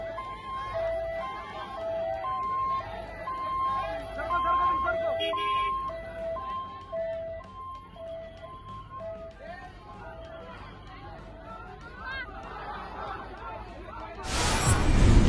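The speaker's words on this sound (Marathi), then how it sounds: "रुग्ण घेऊन निघालेली रुग्णवाहिका एवढ्या मोठ्या मिरवणुकीतून तत्काळ रस्ता मोकळा करून पुढे पाठवण्यात आल्याचे चित्र पाहावयास मिळाले" An ambulance siren, carrying a patient through a large festival procession near Khed, Pune, wails in a steady alternating two-tone pattern throughout, moderately loud over crowd chatter and road noise, before a loud rushing burst at the end.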